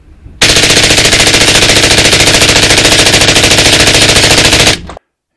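Rapid sustained automatic fire from a Sabertooth Micron 5.56 rifle with an 11.5 inch barrel, a very loud continuous string of evenly spaced shots lasting about four seconds, then abrupt silence.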